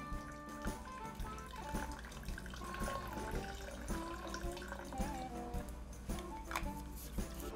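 Fifty millilitres of vodka are poured into a Halloween cocktail, a soft, steady liquid trickle with faint clinks of glassware, heard quietly and alone.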